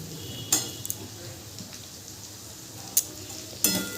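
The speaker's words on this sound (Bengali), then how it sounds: "টমেটো কুচিটা দিয়েও ভালো করে মিশিয়ে নেব" Chopped tomato is stirred into spice masala frying in a pan for a vegetarian paneer dish. There is a soft steady sizzle with a few sharp scrapes and clinks of the spoon against the pan.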